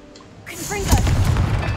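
Confringo blast spell cast in the Hogwarts Legacy video game, a sudden burst with sparkly whooshing tail following a shouted incantation, loud and close, with game sounds continuing after.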